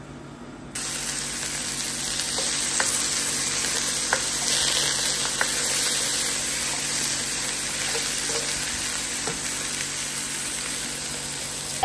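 Steady sizzle of squash sautéing in oil, continuous frying hiss after a quieter start, with a few light clicks and stirring taps.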